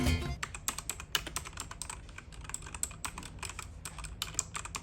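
Rapid, irregular keystrokes on a compact 90% Spanish-layout Terport mechanical keyboard with Outemu red switches, typed steadily and clearly up close with no talking.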